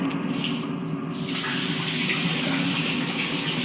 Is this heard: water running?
yes